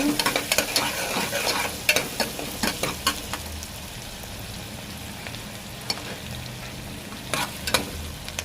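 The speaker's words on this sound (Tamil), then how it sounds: "வெங்காயத்தை போட்டு நல்லா வதக்கிக்கோங்க." Onions sautéing in hot oil in a pan for Tamil-style mutton kulambu (mutton curry): a steady, fairly quiet sizzle with sharp spoon-scraping clicks and stirring taps scattered throughout, close up and with no talking.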